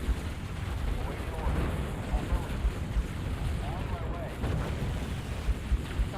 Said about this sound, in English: Those plasma cannons are going to start to chew up my vehicles.